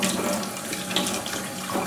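Homegrown ginger scrubbed clean under a running kitchen tap; a steady close hiss of flowing water with light splashing and rubbing throughout, with no one talking.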